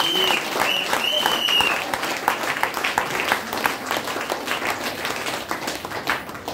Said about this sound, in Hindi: आधे पे ताली मारो भाई कंपनी के लिए